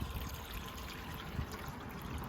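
Water trickles and splashes steadily from a dog drinking fountain in Portela park, Lisbon. The sound is close and continuous, with no speech.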